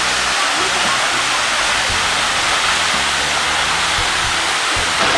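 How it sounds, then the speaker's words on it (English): La Cascada, a waterfall near Yelapa, roars as a loud, constant rush of falling water heard up close. "A beautiful waterfall!"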